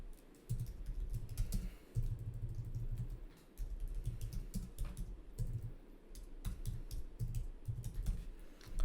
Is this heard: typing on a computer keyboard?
yes